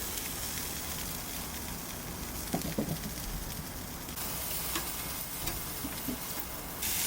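Steak searing over charcoal heat gives off a continuous hiss and sizzle, with occasional light pops and a few soft clinks of tongs, close and steady throughout.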